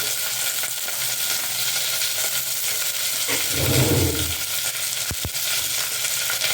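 Spice powders of coriander, chili, salt and turmeric fry with onions in a pan for aloo kurma, giving a steady close sizzle. A brief stirring scrape rises midway, followed by two quick taps.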